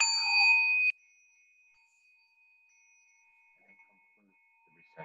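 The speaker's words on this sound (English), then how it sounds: "They will ring the bell." A bell used in Soto Zen practice is struck once, a bright metallic ding that rings out clearly and then hangs in a long, thin, fading hum through near silence.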